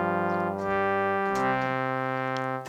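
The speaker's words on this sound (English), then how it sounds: "It almost sounds like a weird accordion or something" A flute-based pad preset on a Softube Model 84 synthesizer holds a sustained, dry chord with a reedy, accordion-like tone, playing steadily and close for the whole stretch.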